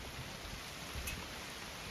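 Rain in typical northern weather falls steadily as a soft, even wash of hiss and patter, with no distinct drops standing out and no voices over it.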